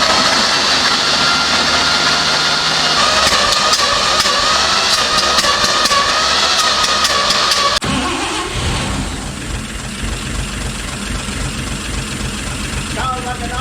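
A car engine revived after transmission fluid was added to its cylinders idles roughly and steadily up close, then drops to a lower, uneven rumble midway, with a voice talking over it.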